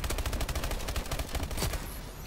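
Rapid sustained gunfire from a newly unlocked gun in Call of Duty Advanced Warfare, a dense volley of loud shots in quick succession with no pause, cutting off near the end.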